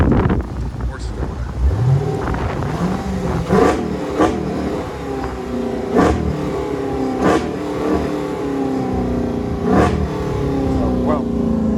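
Mopar car engine revved at close range while parked: several rising and falling revs with blips repeating every second or two over a steady idle, with someone talking over part of it.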